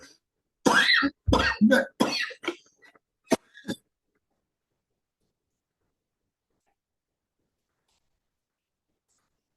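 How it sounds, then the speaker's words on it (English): A person coughs in a cluster of harsh, close bursts with a throat-clearing sound, followed by a couple of softer coughs and then near silence. "when it gets to the evening, I start coughing"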